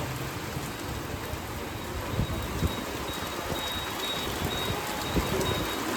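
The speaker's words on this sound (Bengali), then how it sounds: "এই বৃষ্টিতে এই শেডের তলায় দাঁড়াতে আর ভালো লাগছে না" Rain falls steadily on and around a shed roof during a downpour, a soft, even hiss with occasional faint drips, distant and without speech.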